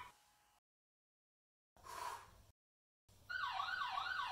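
A Sonoff iHost smart home security alarm siren wailing in a rising-and-falling pattern, preceded by short bursts of tone separated by silence.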